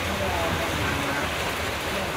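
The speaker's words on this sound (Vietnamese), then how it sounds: "Chà cơn mưa này khá lớn à." Heavy rain falls on water and surfaces near a fishing raft in rural Dong Thap, a dense, steady hiss that fills the whole clip with no gaps, loud and enveloping.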